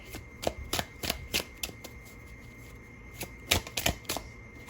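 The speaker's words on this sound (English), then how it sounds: "And I am just going to shuffle just throw 1 more card." Tarot cards are shuffled in quick bursts of crisp, papery riffles and taps, close and clear, with a short pause in the middle before another flurry of card snaps.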